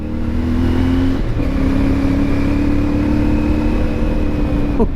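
A CF Moto 450MT motorcycle engine hums steadily while riding, loud and close, with a brief dip in revs partway through before settling back to a smooth mid-range drone.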